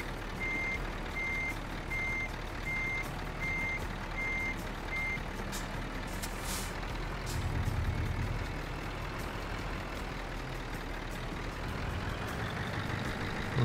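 A truck reverses in Euro Truck Simulator 2, its steady reversing beeps pulsing over a continuous low engine rumble, then a brief hiss of air brakes before the engine note carries on alone.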